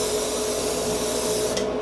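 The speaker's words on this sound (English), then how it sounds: "I'm gonna spray this pan." Cooking spray hissing from a can onto a pan, a short, steady, close spray that stops abruptly near the end.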